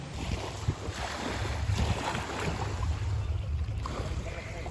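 A small boat on the water near Zanzibar, heading out toward an island: a steady rumble of motor and water with gusty wind buffeting the microphone, fairly constant and close.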